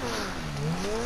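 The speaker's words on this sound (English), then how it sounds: "Let's give it a couple of revs." Grotti Turismo R engine in GTA Online revs briefly, a smooth rising and falling engine tone held steady at moderate loudness for about a second.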